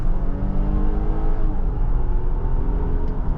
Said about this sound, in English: This is foot to the floor now.